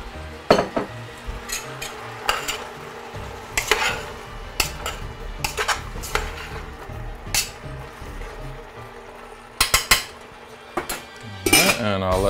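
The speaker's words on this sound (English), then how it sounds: "I'm going to add in the tomatoes" Tomatoes go into a hot pan of garlic and onions, bringing clattering metal utensil knocks and scrapes against the pan, some sharp clanks and a light sizzle underneath, close and irregular.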